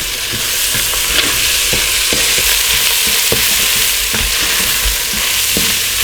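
Spicy fried rice with black pepper and chili flakes being stirred in an oiled pan, a loud steady sizzle broken by repeated scraping and tapping strokes of the spatula, close up and without speech.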